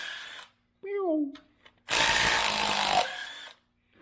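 Burst of a power tool working on an aluminum 5.3L engine top end, freeing a valve, a loud sustained whir for about a second, preceded by short mechanical tones.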